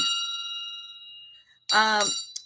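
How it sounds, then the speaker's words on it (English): A brass bell is struck and rings with a bright, sustained metallic tone that decays slowly, then is rung again near the end with a sharp, loud ding and shimmering overtones. "This is a brass bell, and it has a nice ring."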